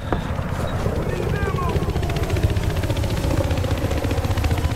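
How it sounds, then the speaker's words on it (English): A transport helicopter in Battlefield Hardline flies nearby with a steady, heavy rotor thump and engine drone that carries through the whole stretch, loud, while players shout over it. "You see that chopper?"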